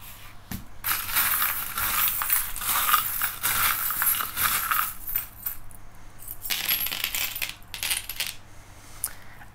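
Small divination charms are shaken and cast onto a surface for a love reading, producing a dense, continuous clinking and rattling of metal trinkets that swells and fades in bursts, with no voices.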